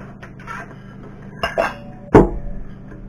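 Spoon scraping and clinking in a pot of thickening pastry cream, a few soft scrapes followed by two sharper knocks against the pan, close and fairly quiet.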